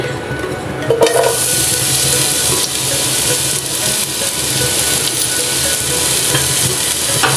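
Finely sliced onions fry in hot oil toward golden brown for chana pulao, a loud, dense, unbroken sizzle close to the pan, with a brief clatter near the start.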